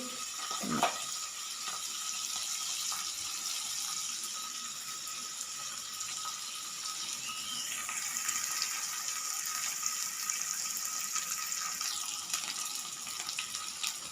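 A tomato and ivy gourd curry sizzles steadily in a pan, a continuous close crackling hiss with a brief clatter near the start and no talking.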